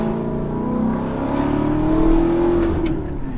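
A Maserati engine revs up in a rising, throaty drone, loud and close, holding high before easing off.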